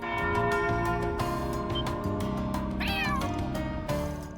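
Cats meowing in the video game Trails Beyond the Horizon, several meows and a rising wavering cry over game music with bell-like chimes, fairly loud and without talk.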